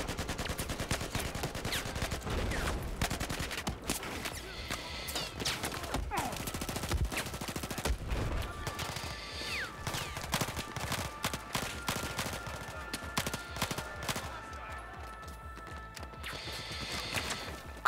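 Dense Battlefield 4 singleplayer gunfire, with rapid machine-gun bursts and heavy shots crackling almost nonstop, loud and close, punctuated by crashing impacts throughout.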